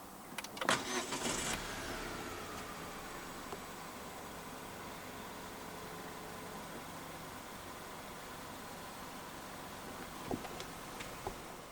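A 2025 Jetour Dashing 1.5 turbo engine starts by push button with a short whirring crank, then settles into a steady, quiet idle hum with a few faint clicks.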